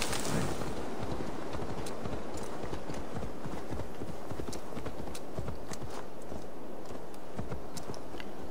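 Horse hooves clip-clop steadily in Assassin's Creed Valhalla, a continuous run of close, even hoofbeats over a constant game ambience, with no talk.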